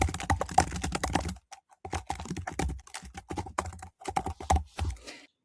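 Typing a note title on a computer keyboard: close, crisp key clicks in quick irregular bursts separated by short pauses, quiet and alone without speech.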